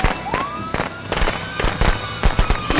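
Gunfire in the Friday the 13th video game: a rapid series of sharp, punchy bangs at irregular intervals, loud and close, with faint voices in the background.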